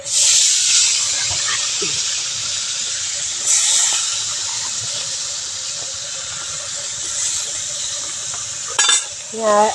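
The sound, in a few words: fish frying in oil on a wood-fired stove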